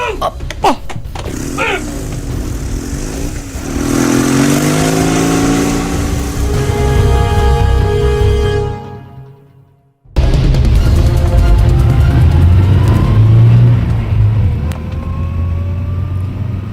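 A motorcycle engine revs up with steadily rising pitch, cuts out abruptly, then rumbles on loudly again.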